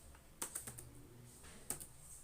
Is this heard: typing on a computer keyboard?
yes